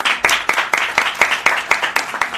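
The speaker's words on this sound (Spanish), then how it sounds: "Un aplauso." Rhythmic unison clapping from a press audience at a media event for a stage show, about two claps per second, close and loud.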